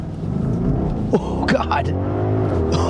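A 2023 Audi RS Q8 performance SUV revs hard while held on the brake for a launch, its deep engine roar rising in pitch close to the listener, with a brief exclamation from a voice in the cabin.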